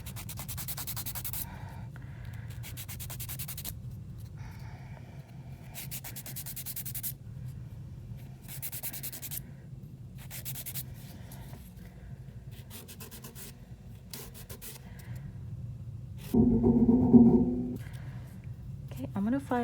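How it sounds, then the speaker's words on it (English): A nail file scrapes back and forth across dip powder nails to shape them into a ballerina form, giving close, scratchy rasping bursts in an uneven rhythm, separated by short pauses, with a voice talking over parts of it. "So I gotta do more filing."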